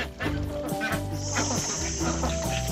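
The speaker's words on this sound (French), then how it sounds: "Ça, c'est un coq." Several chickens cluck and murmur nearby over a busy background, with a rooster's crow rising through the mix.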